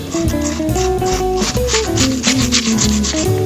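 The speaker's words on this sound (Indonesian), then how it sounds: "bisa diamplas seperti ini" Sandpaper rubs back and forth over a piece of clay in a continuous gritty scrape, loud and close, with a steady musical tone running underneath.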